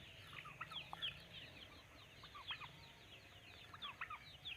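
Chickens cluck in a small coop for local hens, soft overlapping calls scattered throughout at a low, somewhat distant level with no talk.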